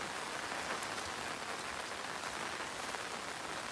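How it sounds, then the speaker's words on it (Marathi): Heavy monsoon rain pours down in a Sahyadri village, a dense, even hiss of drops drumming on surfaces throughout, steady and enveloping with no voices. "जाम पाऊस आलाय आता"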